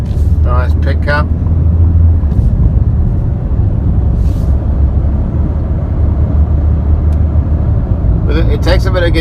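Ford Transit Custom panel van carrying half a ton of wood in the back, a loud steady low engine and road rumble from inside the cab, with brief voices at the start and end.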